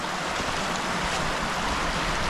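A mountain stream in Alaska rushes steadily, a dense broadband wash of flowing water close by, continuous and unchanging for the whole stretch with no voices.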